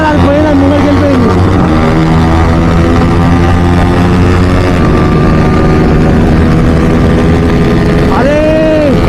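A Yamaha R15 motorcycle fitted with an Akrapovic exhaust racing in a drag race, its engine droning loud and close with steady harmonic tones that dip and then climb again as it revs near the end, heavily saturated, with voices mixed in.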